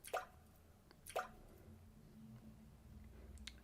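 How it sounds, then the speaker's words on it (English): Water drops dripping in a video game, two clear plops close together near the start and a fainter one later, each echoing briefly over a quiet low hum. "Drip, drop. The sound of drops resonating all around me."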